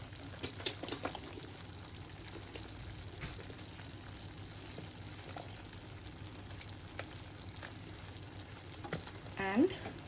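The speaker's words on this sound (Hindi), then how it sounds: "इस पॉइंट पे मैं ऐड करूँगी फ्रेश क्रीम।" Fresh cream goes into chicken bharta in a pan, with a steady soft sizzle of oil under continuous stirring and scraping and a brief pour near the end.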